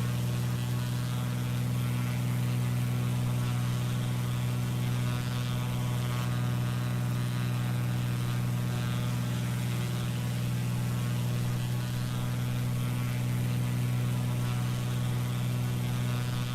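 A Cessna Caravan single turboprop in Microsoft Flight Simulator drones in a steady, continuous hum with a strong low tone for the whole stretch, loud and unbroken.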